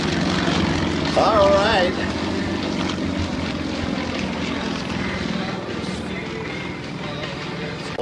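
A propeller airplane droning steadily through a big roundhouse loop at an outdoor air show, its engine tone rising and falling, with an announcer talking over it.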